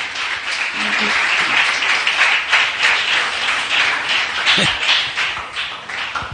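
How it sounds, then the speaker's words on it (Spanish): Church congregation clapping together in praise, a steady wash of hand claps filling the room with a few louder taps and some murmured voices underneath. "dele un aplauso al Señor"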